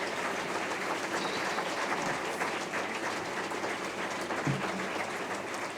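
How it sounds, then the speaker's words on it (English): Symposium audience applauding in a hall, a dense steady wash of many hands clapping at moderate distance, continuing evenly with a brief thump partway through. "this applause is for you"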